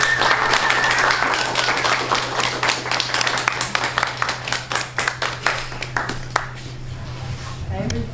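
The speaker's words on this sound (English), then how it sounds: "give a round of applause for Madeline" An audience gives Madeline a round of applause that starts as a loud, dense wall of clapping and gradually thins out into scattered individual claps before fading near the end.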